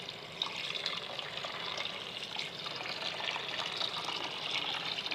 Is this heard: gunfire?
no